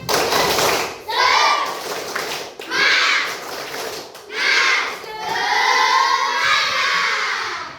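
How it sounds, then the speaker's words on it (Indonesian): Schoolchildren in a classroom chant loudly in unison in repeated bursts, with rhythmic hand claps thudding between the shouted phrases, close and energetic. "kita tepuk semangat dulu biar kita belajarnya semangat ya"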